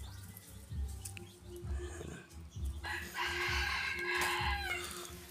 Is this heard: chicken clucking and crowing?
yes